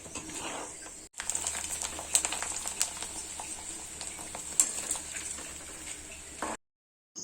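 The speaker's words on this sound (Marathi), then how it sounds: "पापड तळताना हे फटाफट असे एकदम छान असे फुगून येतात" Oil sizzles and crackles steadily up close as semolina papads fry and puff, with sharp pops scattered throughout, then cuts to sudden silence.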